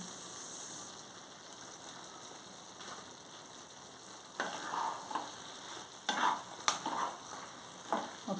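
Eggplant and drumstick curry is stirred in a pan with soft, steady sizzling under intermittent scraping and clinking strokes that grow more frequent toward the end, with no talking.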